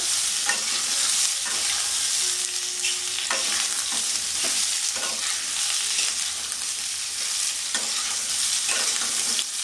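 Raw mango frying in oil for a Bengali-style chutney hisses with a loud, dense sizzle throughout, broken by periodic stirring scrapes in the pan.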